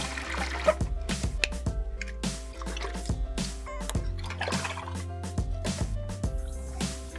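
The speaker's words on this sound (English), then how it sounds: "Fill a few balloons with water." Water gurgles and splashes irregularly while balloons are filled from a tap, with bubbly pulses and drips over a low steady flow hum.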